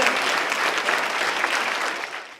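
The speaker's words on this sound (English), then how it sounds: "Nice round of applause again" A crowd claps loudly and continuously after a performance of a first song, a thick burst of applause that begins to fade just at the end.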